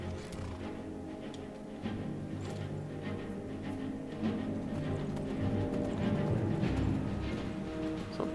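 A horse's hooves clip-clop steadily in the video game Skyrim, a regular, moderately close trotting rhythm over a low ambient background, with no talking.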